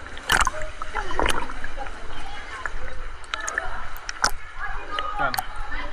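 Rowboat being paddled on the sea at Hundred Islands, with splashing oar strokes and gurgling water close by, and people talking throughout.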